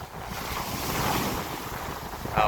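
Onshore wind blows steadily across a beach, a broad roaring rush with buffeting on the microphone over a low wash of surf, and a brief gust near the end.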